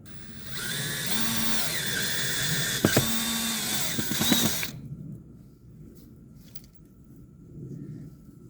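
A power drill drives screws into a replacement window operator, whirring steadily for about four seconds with brief pauses and clicks, then falling quiet to a faint background hum.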